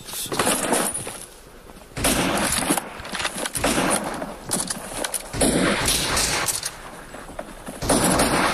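Gunfire in BGMI during a squad match: loud, close bursts of rapid shots and volleys in several separate clusters, with short quieter gaps between them.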